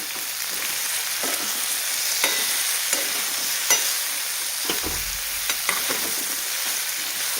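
Stuffed brinjals fry in oil in a pan, a continuous close sizzle broken by occasional light taps and scrapes of stirring, with no voices.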